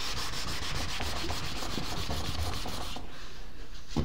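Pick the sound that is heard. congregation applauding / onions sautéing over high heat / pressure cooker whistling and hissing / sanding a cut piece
sanding a cut piece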